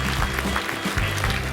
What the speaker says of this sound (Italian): facciamo un applauso per tutte le concorrenti